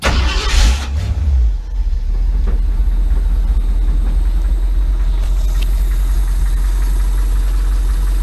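A custom Ford Bronco engine fitted with Magnaflow mufflers starts up with a brief loud burst, then settles into a steady, deep, close idle rumble.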